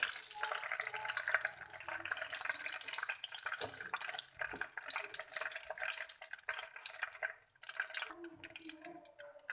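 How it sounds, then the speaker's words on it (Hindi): Potato pakoras deep-frying in hot oil, giving a dense, continuous sizzle and crackle with small bursts and pops, heard close up with no talking. "इसी तरह से बाकी भी फ्राई कर लेंगे"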